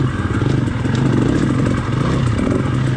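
A 250 dirt bike ridden through snow at Big Bear drones steadily and close by, its mid-pitched engine buzz holding a constant throttle with a light mechanical clatter throughout.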